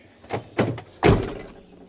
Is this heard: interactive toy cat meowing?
no